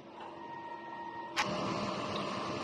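A DTF printer runs a print head cleaning cycle, a steady mechanical hum with faint tones, then a sharp click at mid-clip after which a louder, broader pump-like whir continues to the end.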